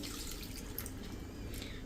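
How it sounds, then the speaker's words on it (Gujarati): Water pours steadily and fairly quietly into a pot of cooking moong dal, about one glass, with a continuous splashing trickle and a few brief clinks. "તો અત્યારે હું 1 ગ્લાસ જેવું પાણી નાખી દઉં છું."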